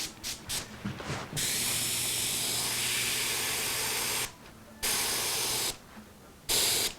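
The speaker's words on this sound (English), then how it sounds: "I'm going to spray on the back of this" An aerosol spray can hisses in several long bursts separated by short pauses, spraying finish onto the back of a guitar in a workshop, close and steady, with a faint mechanical hum underneath.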